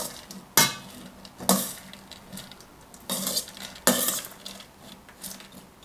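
Sprouting green lentils are stirred in a bowl, giving four or five separate bursts of rattling and scraping with short quiet gaps between them, close and clear.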